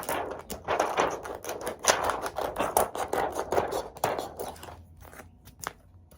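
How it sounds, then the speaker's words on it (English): Scissors snip through a regular laminated sheet with a sticky backing, giving a quick, close series of crisp cutting crunches that thin out near the end. "But this scissors work pretty fine."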